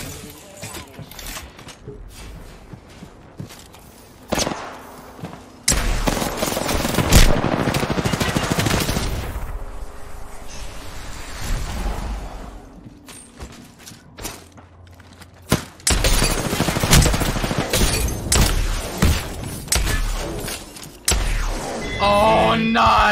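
Gunfire in Apex Legends at a Code Red tournament: dense, loud bursts of automatic fire and single shots across most of the stretch, with a quieter lull in the middle and impacts mixed in.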